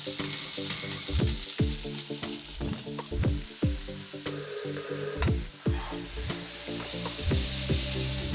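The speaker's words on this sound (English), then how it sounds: "Bring the scallops over, start searing them." Scallops searing in a hot oiled pan, a loud continuous sizzle and spatter broken by repeated clattering knocks of the pan and utensils, close up and without voices.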